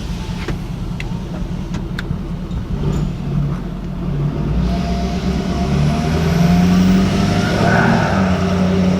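A turbocharged car with a newly fitted intake accelerates with the windows down; the engine note swells and grows louder, and a thin, faint high whine rises as the turbo spools up.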